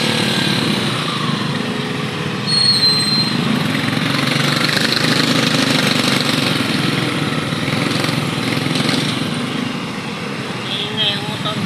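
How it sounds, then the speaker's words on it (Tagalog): A tricycle's motorcycle engine runs steadily in heavy traffic, a continuous close droning rumble with light high buzz, with other vehicles around and people talking over it. "Ingay ang motor namin."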